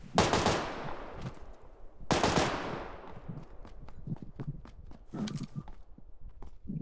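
Gunshots in the video game PUBG Lite: two loud echoing blasts a couple of seconds apart, followed by scattered lighter shots and rustling movement, fairly close.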